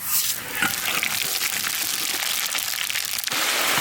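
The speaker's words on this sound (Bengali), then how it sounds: "ওই তেলেই, যে তেলে মাছ ভেজেছে ওই তেলেই ফোড়ন দেবো, জিরে তেজপাতা" Whole cumin and bay leaves crackle and spit in hot oil left over from frying fish, a steady close sizzle with brief pops and crinkling bursts throughout.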